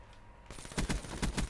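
Submachine gun firing in a video game: after brief quiet, a rapid burst of several close, punchy shots in quick succession.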